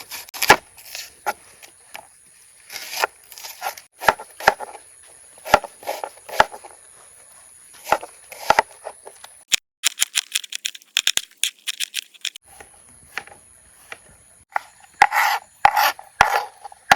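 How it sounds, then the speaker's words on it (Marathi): Onions are cut by hand at a night campsite beside a creek, a run of close, dry rasping knife strokes that come in irregular bursts with short pauses between them, and no talking. "इकडं कांदा कटिंग करून घेऊ"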